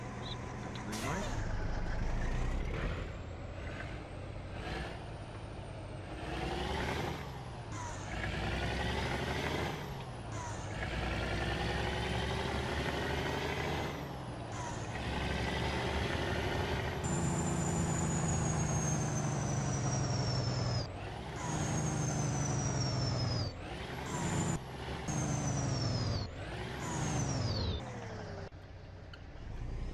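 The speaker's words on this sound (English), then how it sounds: "So that's the sound of the engine if you haven't heard it before." Kenworth T660 truck engine in a truck simulator game, revving through repeated rising and falling sweeps, loud and close, with sharp air-brake hisses between pulls and no voices.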